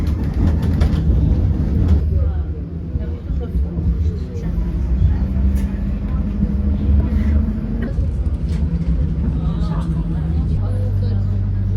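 A Brussels tram running along its line, heard from on board as a continuous low rumble of wheels and motor with occasional rattles and a rising hum, with faint voices underneath.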